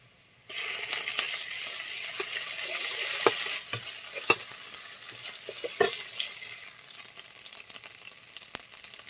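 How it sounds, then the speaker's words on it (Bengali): Chopped onions and ginger garlic paste frying in oil in a pan, a bright continuous sizzle that starts suddenly, with occasional clicks of a utensil against the pan. "পেঁয়াজ কুচি, ভালো করে লাল লাল করে ভেজে নেব। দিয়ে দেবো আদা রসুন বাটা"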